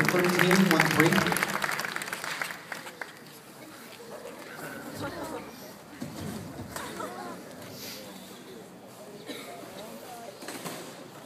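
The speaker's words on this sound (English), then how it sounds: "How about a round of applause for them?" An audience claps at a school project graduation hypnosis show, applause loudest at the start and then thinning out under speech and chatter.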